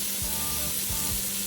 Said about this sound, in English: So here we go, we're cooking the meatballs.